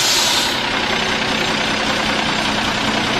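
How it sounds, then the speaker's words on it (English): A large dump truck with tires a metre and a half high idles nearby. Its engine gives off a loud, continuous, rough rumble that stays steady throughout, with no other sound over it. "We got the dump truck running"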